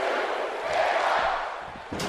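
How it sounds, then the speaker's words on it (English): The arena crowd in the wrestling video game WWE 2K17 roars in a broad, sustained chant, with a few thuds and a sharp hit near the end. "the crowd keeps chanting"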